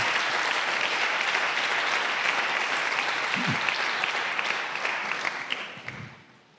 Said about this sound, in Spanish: Dale un aplauso al Señor como Él lo merece